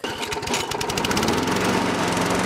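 A lawn mower cuts an overgrown, yellowing lawn at a foreclosed home, its engine running steadily and loud at close range throughout, with no voices.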